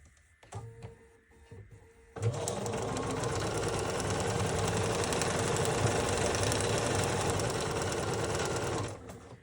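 A sewing machine stitching a quilt block starts after a few soft handling sounds and runs in a steady, close, rapid whir for about seven seconds before stopping.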